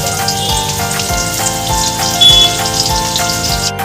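Chopped onions fry in oil for mutton biryani, giving a loud, dense, crackling sizzle that runs continuously with a faint tonal hum underneath, up close and with nobody speaking.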